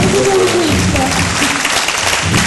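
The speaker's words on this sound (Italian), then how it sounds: "Quindi un grosso applauso." A theatre audience in Sorrento breaks into loud, dense applause, sustained clapping from a large crowd filling the whole moment.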